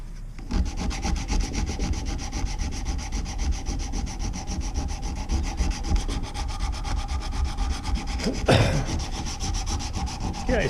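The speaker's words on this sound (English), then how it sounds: "Okay, I sand it back and forth." A steady, loud rasp of hand block sanding along a flat-head screwdriver shaft, continuous back-and-forth scraping at close range, with one sharper scuff near the end.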